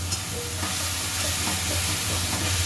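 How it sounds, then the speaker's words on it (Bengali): A spice paste of ginger, garlic, turmeric, cumin and chili sizzles and fries steadily in a pan, a loud, continuous crackling hiss close up with no voices. "দিয়ে এবার মশলাটাকে আমি ভালো করে কষবো"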